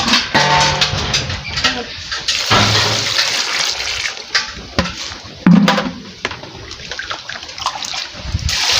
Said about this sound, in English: I'm going to go ahead to add in some water